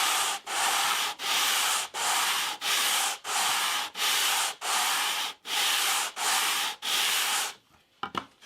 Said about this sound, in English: This is just about fine sanding the joint.